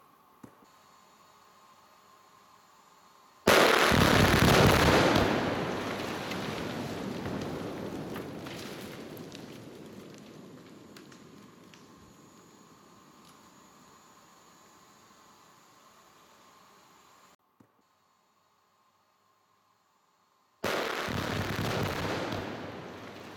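A 42-hole blast shot in granite for a forest road upgrade erupts suddenly as a loud, broad rumbling explosion, then decays slowly over about twelve seconds into falling debris and fading noise before a brief silence and a renewed roar.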